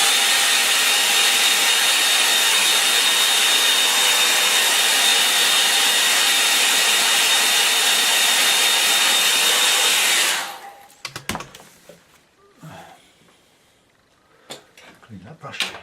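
A hair dryer blows loud and steady for about ten seconds to dry a painting of a local pond, then switches off, leaving faint handling clicks and brush sounds.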